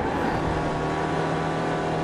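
A race car engine in the iRacing sim, an SRF at Summit Point, roars steadily at full throttle, a loud, dense, continuous drone with no break and no voice over it.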